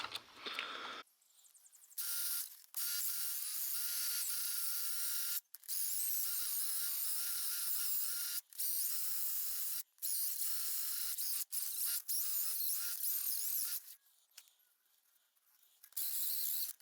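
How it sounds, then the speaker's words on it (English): A handheld screw gun whirs in sustained high-pitched bursts while cleaning out the inside of a pipe for a farm pond, with a few brief pauses and a quieter stretch near the end. "now I'm going to take this screw gun and clean out the inside"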